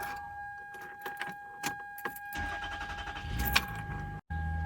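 Keys jingle near a Toyota Sienna minivan, then its engine cranks and catches with a rough, uneven start after its throttle was cleaned with throttle cleaner. It is close and moderately loud, and there is no talk.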